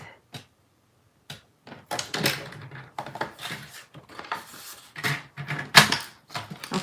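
A paper trimmer's cutting blade slices through cardstock for a Halloween stair-step card, giving close, sharp clicks and short scraping strokes separated by brief pauses.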